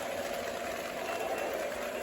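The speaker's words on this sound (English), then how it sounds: "The trains are running well." Toy model trains run steadily on a layout, producing a continuous low motor whir with light rattling from the track, heard fairly close and unbroken, with no voice.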